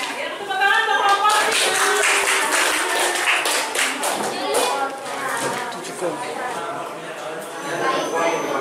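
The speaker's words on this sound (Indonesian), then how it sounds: "Ya, tepuk tangan untuk kelompok" A classroom group of students applauds a presentation group, dense clapping from many hands close by that swells and then slowly thins, with voices mixed in.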